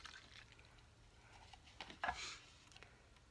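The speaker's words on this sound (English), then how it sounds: "I'm going to pour the dirty water into the measuring cup" Dirty water from cleaning makeup brushes pours into a measuring cup, a faint brief splash and trickle, quiet and close.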